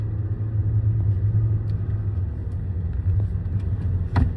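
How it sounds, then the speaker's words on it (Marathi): A car engine hums steadily as a first-time driver moves along at about 40, the clutch pressed for a shift into second gear, a low continuous rumble with a brief sharp click near the end. "या ठिकाणी गाडी 40च्या स्पीडला क्लच दाबून घेर टाका दुसरा"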